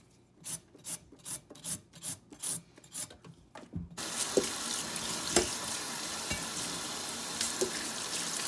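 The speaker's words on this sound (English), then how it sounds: "we're gonna peel the carrots" Carrots being peeled, about eight rhythmic rasping strokes at close range, then a steady sizzling hiss from a pan takes over for the rest.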